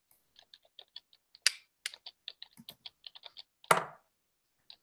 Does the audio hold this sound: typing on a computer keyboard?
yes